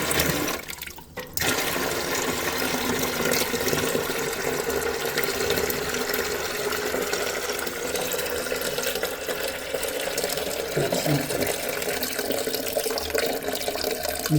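Water drains from a toilet tank into a bucket during a fill valve replacement, a steady close rushing and trickling pour that runs continuously for the whole stretch after a brief initial splash.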